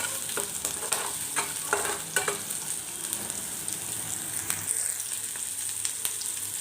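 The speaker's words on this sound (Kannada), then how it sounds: "ಈಗ ಒಂದು ಬಾಣಲಿ ಇಟ್ಕೊಂಡು ಸ್ವಲ್ಪ ಎಣ್ಣೆ, ಒಂದು ಈರುಳ್ಳಿ ಹಾಕಿ ಚೆನ್ನಾಗಿ ಫ್ರೈ ಮಾಡ್ಕೊಳ್ತಾ ಇದ್ದೀನಿ." Onion frying in oil in a pan for peanut chutney, a steady close sizzle with crackling pops and a few stirring scrapes, heard alone without talk.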